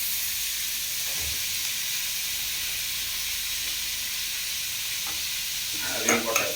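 Green chili, curry leaves, ginger and garlic fry in a pan for puli kulambu, a steady hissing sizzle held at an even level with faint stirring, then a brief louder scrape near the end.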